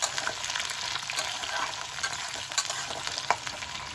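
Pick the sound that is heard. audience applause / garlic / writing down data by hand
garlic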